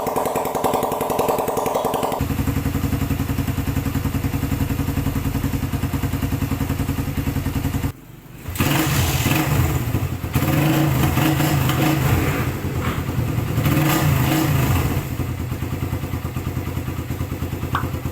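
A Suzuki Raider 150 carbureted motorcycle engine, freshly rebuilt after a knocking fault, idles loudly and steadily, cuts out briefly, then restarts and revs in several rising bursts before settling back, close up with no talk.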